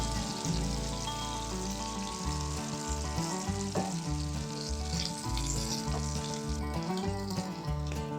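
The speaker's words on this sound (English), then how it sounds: "I'll keep frying them until I get them all done" Oil sizzles and crackles steadily as food fries up close, with soft background music playing throughout.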